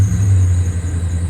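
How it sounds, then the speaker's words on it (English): A Toyota Tundra pickup idling after restarting, a steady low engine rumble with a faint high whine above it, close and constant throughout. "that is a Toyota Tundra that runs again"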